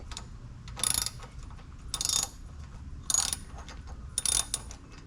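A wrench or ratchet tightening a bolt on a Honda GX240 engine, four separate bursts of fast metallic clicking about a second apart, fairly faint over a quiet low background hum.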